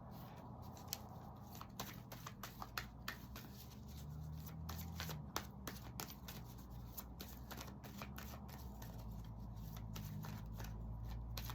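Tarot-style cards shuffled by hand for a reading, a quiet continuous riffling patter with crisp snapping flicks scattered throughout, close up and with no talking.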